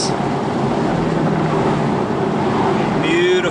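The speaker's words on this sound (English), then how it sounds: "Beautiful noise coming from that flat four. 2 litre turbocharged engine." A 2016 Porsche 718 Boxster's 2-litre turbocharged flat-four engine drones steadily under load on a winding road in manual mode, a loud continuous rumble heard from inside the car.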